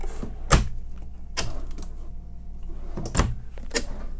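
Drawers in a Newmar Bay Star RV slide open and shut, several sharp close knocks and rolling scrapes spaced a second or so apart against a quiet interior.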